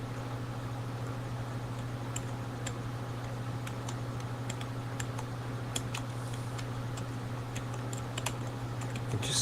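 Computer keys clatter in scattered, irregular clicks over a steady low electrical hum, fairly faint and close, with no talking.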